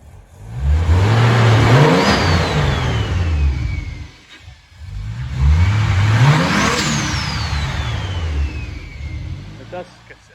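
A Nissan R33 Skyline's turbocharged engine, fitted with two resonators, revs hard twice, each rise climbing to a whistling peak before dropping back, loud and close.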